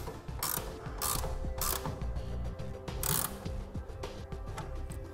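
A 9/16 wrench or socket ratchets a nut tight while a tonneau cover is installed on a pickup bed, giving rapid bursts of close metallic clicking separated by short pauses, with no talk.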